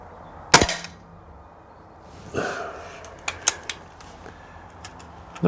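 An air rifle fires a budget pellet in an outdoor accuracy test: one sharp, loud crack up close, followed by a softer thud and a few light mechanical clicks as the rifle is handled.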